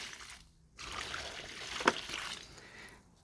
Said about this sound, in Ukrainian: я підлию відро води під цей куш смородини